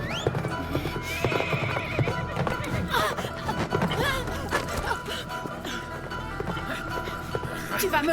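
A horse whinnies and its hooves clip-clop at close range, with several neighs rising over a busy, uneven rhythm of hoofbeats and gasping breaths from a rider.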